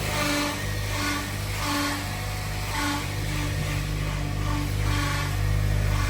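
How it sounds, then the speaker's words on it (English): Acura RSX engine idling steadily with a failing clutch release bearing, a continuous low drone carrying a faint whirring, rhythmic pulsing whine throughout. "Sounds like the release bearing is toast."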